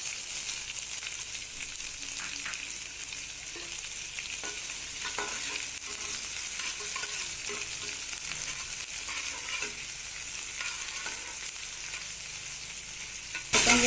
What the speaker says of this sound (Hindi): गोटे मिनट भाजवा छाड़ीदेव